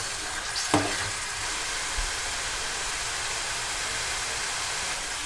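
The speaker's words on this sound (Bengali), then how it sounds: "এবার সসের মধ্যে মোমোগুলোকে দিয়ে দেবো সমস্ত সসগুলোকে আমি এখানে একসাথে একটু খুব ভালো করে কুক করে নেব" Egg momos being stirred into chilli garlic sauce in a pan over a medium flame, giving a steady low sizzle with a sharp clatter near the start and a soft knock later, with no one speaking.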